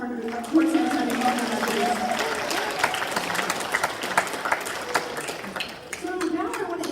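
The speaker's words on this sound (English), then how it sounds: "Give a round of applause for Port San Antonio." Audience applause at a tech and innovation history talk in San Antonio, steady clapping from a crowd for Port San Antonio, with voices and cheers mixed in throughout.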